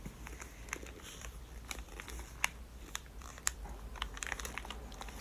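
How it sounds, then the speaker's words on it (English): Paper packaging around a scrapbook from the Rijksmuseum crinkles and crackles in close, quiet detail, with a series of sharp crisp snaps and rustles scattered irregularly over a soft background. "it's like paper packaging."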